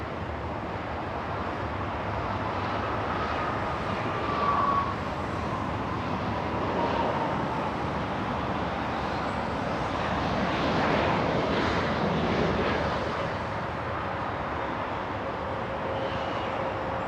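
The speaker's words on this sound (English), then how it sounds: "I think we have, yes, SkyWest. Flying in from Arcata, California." A SkyWest airliner arriving at Los Angeles International from Arcata, California gives a broad, sustained engine rumble. It is steady and moderately loud, swelling slightly in the middle, with no talk over it.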